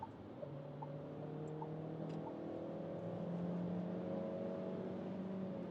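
A Dacia Bigster SUV accelerates hard at speed to overtake, its engine note rising steadily from the cabin with a brief shift, a continuous loud drone under road and wind noise.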